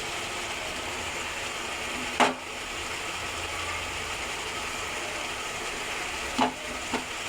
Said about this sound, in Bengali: এটাকে আদা রসুন বাটা দিয়ে ভালো করে নেড়ে নেব।